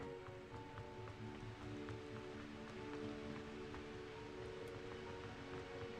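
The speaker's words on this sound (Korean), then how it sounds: "비가 오나 보네?" Rain falls steadily, a soft, even patter of drops on surfaces with faint scattered taps, quiet and continuous with no one speaking.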